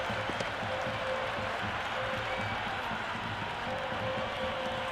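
A large crowd roars and applauds steadily at a cricket ground in the Cricket 26 video game, a dense continuous wash of noise with no distinct peaks.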